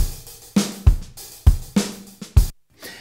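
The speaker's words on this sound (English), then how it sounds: "I've got a drummer here, which sounds a bit like this." A Logic Pro X virtual drummer track plays a steady loop of punchy kick and snare hits with crisp hi-hats, several beats in about three seconds, loud and close with no voices, ending in a brief silence before a quieter hit.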